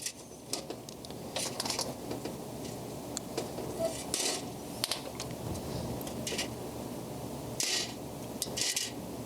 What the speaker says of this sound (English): we're just popping this loose, taking the seal out.